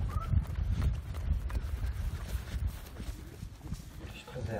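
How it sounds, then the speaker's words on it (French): A horse trotting at an Anglo-Arab sale show, its hoofbeats a steady clip-clop close by, running under a French commentator's continuous talk. "cette force de Libicos qu'on va avoir au trot désormais"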